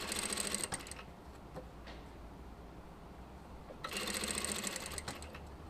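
A domestic sewing machine topstitches a double bias binding in two short bursts of fast, even stitching, with a quieter pause of light handling between them.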